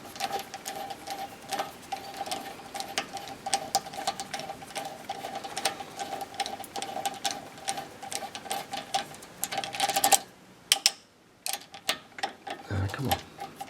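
A screwdriver handle with an 11mm socket runs bolts down on a 3rd gen Camaro IROC-Z U-joint, a rapid ratcheting click series, sometimes under a voice, then a pause and a few final clicks.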